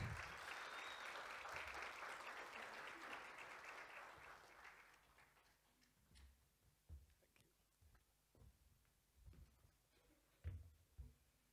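Audience applause for a guest speaker, Commissioner Sam Shivute, at a mid-year budget speech: a dense round of clapping for about five seconds that fades out, followed by scattered knocks and small room sounds.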